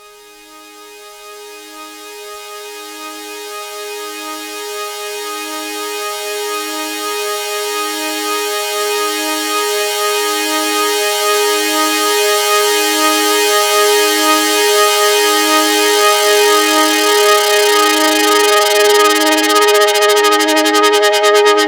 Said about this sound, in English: I used Silent and made a very standard sawtooth wave